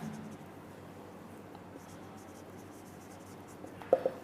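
Marker or chalk scratching on a board while a derivative is worked out, faint and continuous under room noise, ending in two sharper taps near the end.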